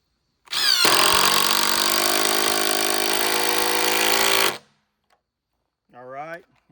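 Battery-powered impact driver sinking a GRK fastener, a loud close burst of rapid hammering lasting about four seconds, then silence and a short voice afterward.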